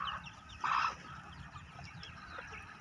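A hen lets out a loud, close cluck burst, with softer clucks and chirps from other birds scattered through the rest, over low farmyard rumble.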